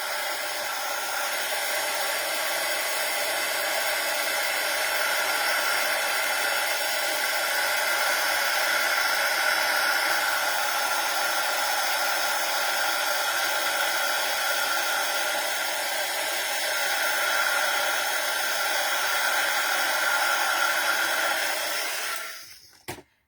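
A heat tool blows hot air steadily onto craft card, a continuous even whoosh lasting over twenty seconds before it cuts off abruptly.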